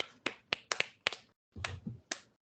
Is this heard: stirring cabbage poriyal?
no